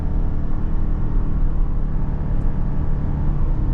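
A 2023 Toyota RAV4 XLE Hybrid accelerates hard under load, heard from inside as a loud, steady low engine and road rumble that holds constant throughout with no talk.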